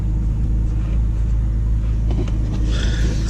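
A 2004 BMW E46 330i ZHP with a five-speed automatic, its engine running in a loud, close, steady idle rumble throughout, with no voices.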